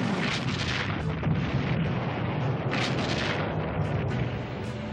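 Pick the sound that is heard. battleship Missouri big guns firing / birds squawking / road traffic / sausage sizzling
battleship Missouri big guns firing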